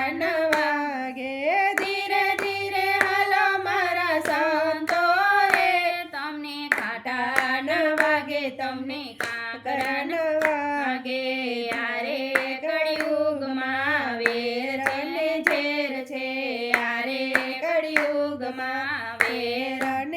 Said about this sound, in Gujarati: તાળી પાડીને તમે બોલજો રે